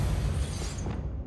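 The Depulsor spell is cast in Hogwarts Legacy, giving a short, muffled burst with a low rumbling thump that fades quickly after about a second.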